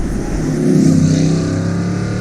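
A 2006 Aston Martin V8 Vantage engine runs steadily and loudly up close, its note swelling briefly as the revs rise before settling into a smooth, even drone.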